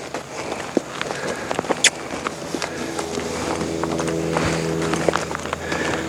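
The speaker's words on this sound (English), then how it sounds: "yes, I will lunge him." A horse runs on the lunge line, its hoofbeats landing as a quick irregular series of thuds at moderate distance over steady outdoor background noise.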